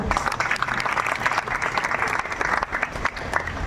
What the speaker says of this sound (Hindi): सबको जिनको अच्छा लगा हो एक बार ताली बजा दो